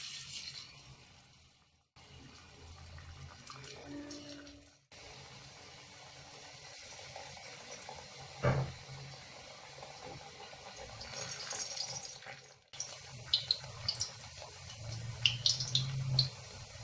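Sweet potato puris fry in hot oil as they are slipped in one at a time, giving a quiet, steady sizzle with soft bubbling and a sharp tap partway through, with no talking.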